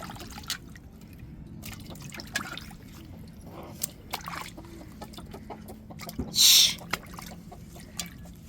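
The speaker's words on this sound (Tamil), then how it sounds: "நீங்கள் வெந்நீர் தண்ணி கூட ஊற்றி கருவாட்டை அலசிக்கிறலாம்" Dried rock fish is rinsed in water, with irregular drips and light splashes close by, while a chicken clucks in the background and one sharp burst of noise cuts through near the end.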